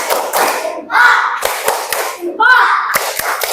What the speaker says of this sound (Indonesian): tepuk tangan untuk Rapik.